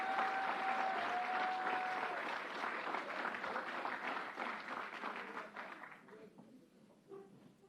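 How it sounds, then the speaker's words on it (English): Audience applause at a gathering on gun violence swells as a dense crowd clapping, then gradually thins and fades away toward the end, fairly distant. "Let's give them a big round of applause."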